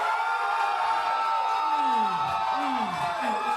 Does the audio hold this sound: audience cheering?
yes